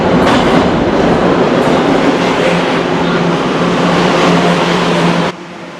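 A crowded New York subway train pulls into an old, poorly maintained station platform at evening, a loud sustained rumble and rattling clatter that cuts off abruptly near the end.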